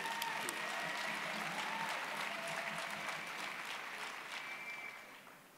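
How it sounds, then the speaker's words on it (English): Sustained applause from a graduation ceremony audience in a large hall, a dense steady mass of clapping that slowly tapers off toward the end. "If you can give them a big applause."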